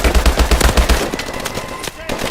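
Rapid automatic gunfire in a video game, a loud close burst in the first second, then scattered shots and game effects.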